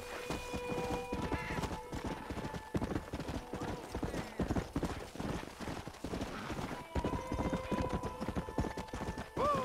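Horse hooves clip-clop steadily through Red Dead Redemption gameplay on Xbox One X, a continuous trotting rhythm up close with an occasional whinny and game ambience beneath.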